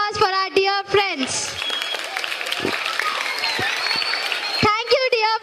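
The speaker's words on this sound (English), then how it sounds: "Round of applause for our dear friends." A round of applause breaks out at a retirement program, a crowd clapping for several seconds between spoken lines from a speaker at the start and end.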